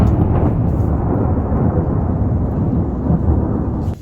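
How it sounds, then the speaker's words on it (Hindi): Thunder rolling through the mountains with rain falling, a loud, sustained deep rumble and wash of rainfall lasting throughout, close and enveloping. "बहुत भयंकर ठंडरिंग हो रही है और बारिश भी शुरू हो गई है"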